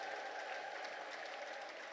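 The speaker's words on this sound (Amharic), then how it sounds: "እስኪ እልልታና ጭብጨባ ለጌታ ስጡት" A church congregation claps steadily in praise during a Protestant sermon, a dense, continuous patter of many hands heard at moderate distance with no voices over it.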